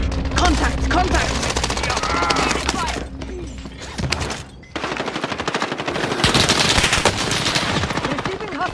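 Rapid machine gun bursts rattle nearly nonstop in Call of Duty Warzone payload combat, loud and close with a short lull midway, mixed with shouted in-game radio callouts.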